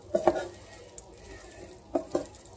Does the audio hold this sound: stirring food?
yes